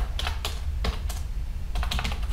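Computer keys clack in short irregular bursts as an IP address is typed, close and crisp over a low background hum.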